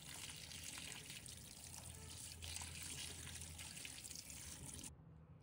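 Running tap water rinses broccoli florets and stems by hand in a kitchen sink, a steady close trickle and splash that runs continuously before cutting off near the end.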